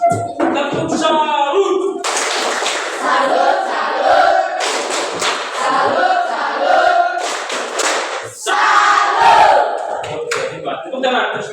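A group of people claps a rhythmic, patterned chant together, mixing sharp clap bursts with shouted voices at close range.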